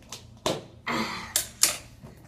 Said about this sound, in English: Use scissors to open these things.